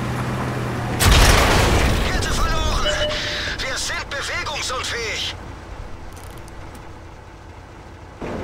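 Artillery shell bursting close to a tank in World of Tanks: a sudden loud boom at about one second, then engine rumble and crackling debris, with a voice speaking over the battle.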